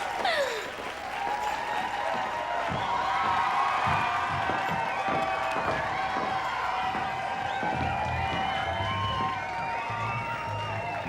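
A crowd applauds and cheers a band taking the stage, a continuous wash of clapping with shouts and whoops layered over it, steady and loud throughout.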